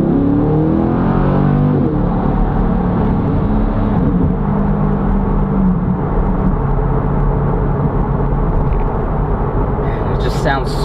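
A C8 Corvette with an aftermarket exhaust accelerates hard, its deep, loud engine roar swelling and rumbling continuously up close, with people talking over it.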